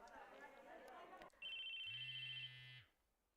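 A cell phone rings in the video game Chaos;Head with a short, bright electronic ringtone that starts abruptly after a burst of noise, holds a steady tone with a low hum beneath, then cuts off into near silence.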